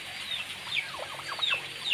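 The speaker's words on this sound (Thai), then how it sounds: "อันนี้ไก่อวงนะไก่อวง ตัวโตๆเลยนี่ฮะ ตัวไก่อวง" Several large chickens clucking and making short murmuring calls nearby on a mixed farm, over a steady background hiss.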